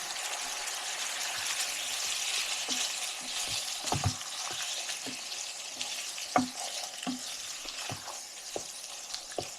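Drained canned Rotel tomatoes go into ground beef in a skillet, bringing a steady close sizzle of frying with scattered scrapes and clicks of stirring. No voices are heard.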